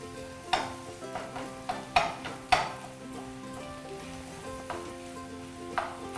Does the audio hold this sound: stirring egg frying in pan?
yes